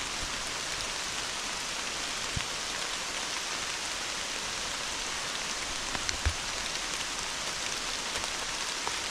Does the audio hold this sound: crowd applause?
no